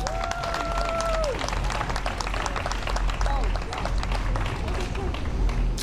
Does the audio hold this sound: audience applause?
yes